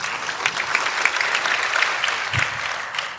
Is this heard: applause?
yes